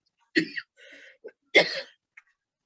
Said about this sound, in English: what I did just now, coughing